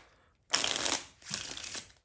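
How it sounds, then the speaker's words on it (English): Playing cards shuffled in the hands during a magic trick demonstration, two quick close riffling bursts, the second slightly softer, with no talking. "You can shuffle."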